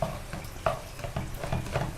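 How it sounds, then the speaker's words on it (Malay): Minced chicken with onion and ground white cumin sizzles quietly in a pan while being stirred, with soft scrapes and shuffles recurring every half second or so over a steady low fry, and no talking. "kita masak dulu hingga ayamnya masak"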